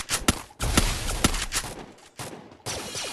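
Rapid bursts of close gunfire from an online battle game, loud cracks in quick clusters with short pauses between volleys and a steady background din.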